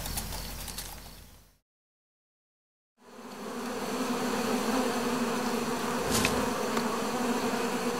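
Hornets buzzing steadily around a honey buzzard–raided hive in Taiwan's mountains, a dense insect drone that cuts out briefly to silence, then resumes continuously and fairly close.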